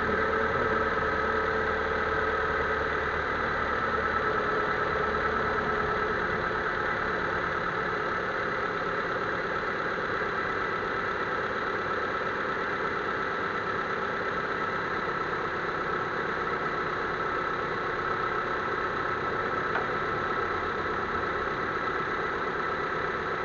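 A Proton Waja MMC car engine idles steadily just after starting, with an even mid-pitched hum and a faint squeal running throughout, with no talking.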